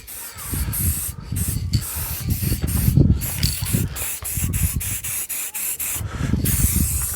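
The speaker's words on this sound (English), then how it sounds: "just go over the whole thing with an aerosol" Black aerosol spray paint is applied over a wooden piece, a close, loud hissing spray broken into many short bursts with brief gaps and faint rubbing in between.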